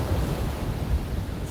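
Ocean waves wash onto a beach at sunrise in a low, steady rushing roar, with light wind noise and no voices.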